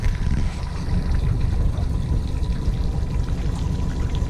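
An outboard motor on a boat trolling slowly across Bronte Lagoon in Tasmania, a steady low engine rumble with water wash, continuous and fairly loud, without speech.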